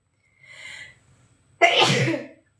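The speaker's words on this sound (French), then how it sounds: "C'était juste un petit atchoum." A single close, loud sneeze bursts out after a brief breathy build-up of a drawn-in breath, then trails off over about a second.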